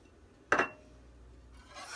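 Spices stirred into a thick cheese sauce in a pot with the heat off: one short scraping rub of a utensil against the pot, then quiet faint rustling.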